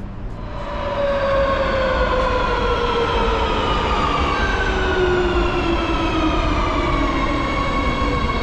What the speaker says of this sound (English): I just arrived here at the train station.